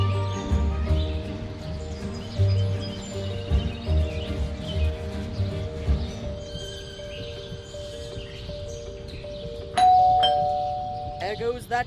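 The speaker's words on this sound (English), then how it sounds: "There goes that stupid bell again." Doorbell ringing in the video game Scary Teacher 3D, with a chime tone that rings and then holds as sustained tones, heard with game music and effects. A sharp added chime comes near the end.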